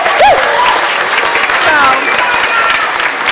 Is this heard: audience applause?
yes